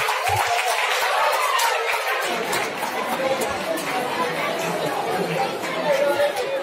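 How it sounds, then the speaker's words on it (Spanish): Audience applause at a Christmas festival school prize-giving in Ourense, a dense steady clapping wash mixed with crowd chatter and laughter throughout. "Un aplauso"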